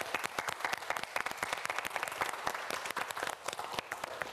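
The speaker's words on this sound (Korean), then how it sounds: "여러분 큰 박수 부탁드립니다" A studio audience at a televised student quiz show applauds steadily, a dense wash of many hands clapping continuously throughout at moderate loudness, with no one speaking.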